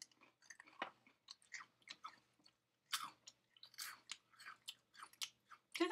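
Close, crisp crunching of a hard Japanese snack shaped like French fries, steady bites and chewing with short pauses, no talk.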